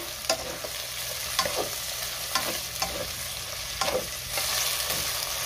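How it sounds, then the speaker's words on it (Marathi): Tomatoes sautéing with ginger-garlic paste in a pan for chicken biryani, a steady sizzle with a spatula scraping and stirring in regular strokes about once a second, close and clear with no talk. "त्यात टोमॅटो घालूया आणि पुन्हा 2 मिनिटं चांगलं परतून घेऊया"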